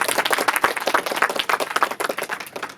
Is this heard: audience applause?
yes